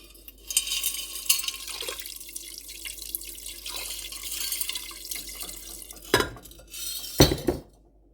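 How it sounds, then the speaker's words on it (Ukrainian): Water runs from a tap into a five-litre pot of cut meat as the base for Ukrainian borscht, a steady splashing stream. A couple of sharper clinks of the pot near the end. "заливаю воду."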